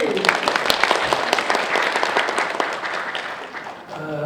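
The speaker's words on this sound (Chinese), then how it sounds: "我们用我们最热烈的掌声欢迎我们的钟博士" An audience breaks into sustained, dense applause to welcome a speaker at a talk, steady and loud throughout with a voice briefly audible near the end.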